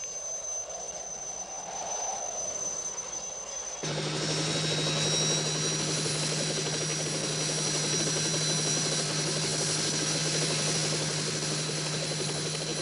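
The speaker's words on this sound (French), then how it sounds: "L'hélicoptère est parti." A helicopter's steady rotor and engine drone in the Alps near Davos swells suddenly louder partway through and holds, a constant whirring hum with no voices.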